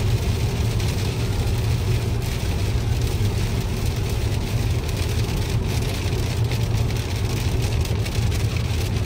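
Rain falls on a car as it drives along the road. A steady, dense patter covers a constant low road and engine rumble throughout, with no one talking.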